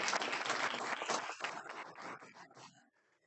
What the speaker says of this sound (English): Another round of applause, please, for our outstanding honorees.